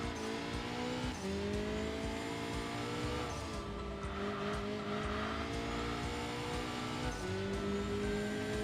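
A turbocharged race car engine with aggressive exhaust and intake roars continuously at high revs in the video game Enthusia Professional Racing, pitch climbing through gear shifts with tire squeal, loud and close with no talking.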